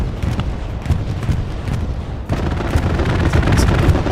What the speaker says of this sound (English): Oh, here we go. Airhead bombing combo.